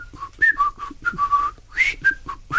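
Someone whistles a lilting tune alone, a string of bright, clear notes with short breaths between phrases, close and steady throughout.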